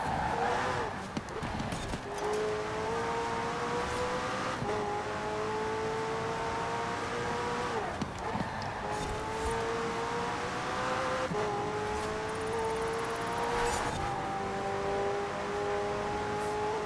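Racing car engines in Forza Horizon 4, one engine droning steadily and climbing in pitch through repeated gear changes, close and prominent, with occasional thumps and no talking.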